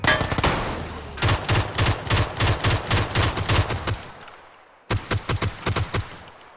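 Automatic gunfire in the video game PUBG on PS5: long rapid bursts of sharp shots, a short burst up front, a sustained volley, then a pause and another rapid burst, loud and close.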